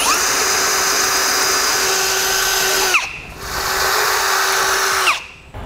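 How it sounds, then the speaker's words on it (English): Power drill boring out bolt holes in the steel frame rail of a 2016 Ford truck while fitting a Blue Ox base plate, two long steady whining runs close up, each ending as the bit winds down. "we will drill out the holes in our frame rail that the bolts go through"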